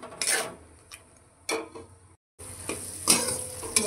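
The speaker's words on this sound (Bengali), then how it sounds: "মশলাটা কষিয়ে নেব।" Spice paste of tomato, ginger, green chilli, coriander and cumin with turmeric and salt is stir-fried in a pan, with a soft sizzle broken by several sharp scraping strokes of a spatula and a brief pause midway.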